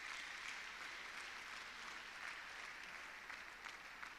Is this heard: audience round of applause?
yes